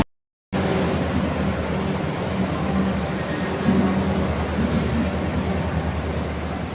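Train running at around 120 km/h near Kharagpur, a dense continuous roar and rumble heard from inside, steady after a brief silent start.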